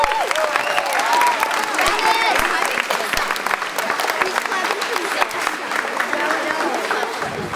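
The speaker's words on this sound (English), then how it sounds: "can we have a round of applause for Mr." An audience applauds at a lower school spring concert, sustained clapping from a sizable crowd that carries on evenly for the whole stretch, with a few louder claps and faint murmurs mixed in.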